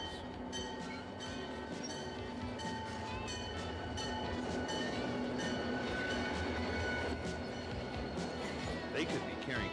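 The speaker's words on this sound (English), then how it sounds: "Freight trains are used to carry all kinds of heavy loads, and they are the workhorses of America's rails." A freight train rolls past on rails, a steady rumbling roar with rhythmic wheel clatter and occasional metallic squeals, constant and fairly distant in level, with a voice talking over it.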